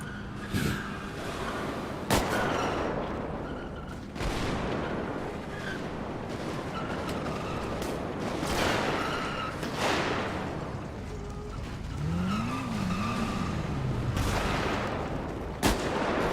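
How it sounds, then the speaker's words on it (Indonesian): Gunfire in GTA V roleplay, loud sharp shots at irregular intervals over a dense rumbling background of engines and noise, with a few distant booms. "Itu siapa yang nembak-nembak tuh"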